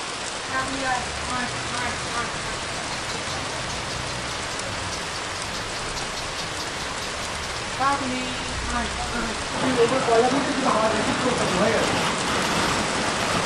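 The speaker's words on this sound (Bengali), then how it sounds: "বাইরে চলছে মুষলধারে বৃষ্টি" Heavy monsoon downpour drums steadily outside during an outdoor rainy-day picnic, a dense continuous hiss of rain on surfaces that swells slightly louder toward the end, with faint voices underneath.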